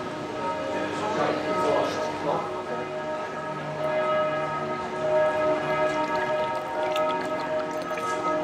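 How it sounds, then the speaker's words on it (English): Steady rain falls over the streets of Old Town Zurich, Switzerland, a constant soft hiss with a faint tonal hum of city background running throughout. "I actually like that it's raining."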